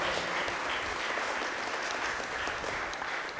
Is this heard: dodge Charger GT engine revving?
no